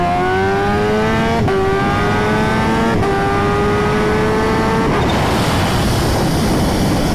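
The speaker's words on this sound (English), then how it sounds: "It's much, much, much more aggressive than second gear hits. First gear," A 352 hp Kawasaki Ninja H2 motorcycle accelerates hard in first gear with a loud, rising engine whine, briefly dipping at quick shifts before a roaring rush of wind noise takes over, no talking.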